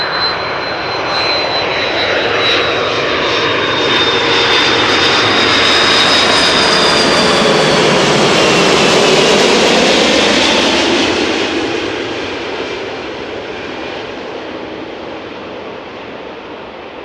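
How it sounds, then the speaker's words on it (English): Delta Airlines Airbus A330-300 jet arriving at Amsterdam Schiphol after a flight from New York JFK, a loud engine roar that swells as the aircraft passes close, then fades into a lower rumble. "this is Delta Airlines flight 48, arrived from New York JFK, Airbus"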